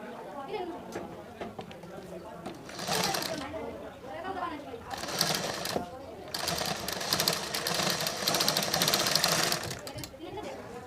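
A sewing machine stitches blouse fabric, sewing a curved seam through the main cloth and its lining in several bursts of rapid, rattling needle clatter between pauses, while someone speaks over it.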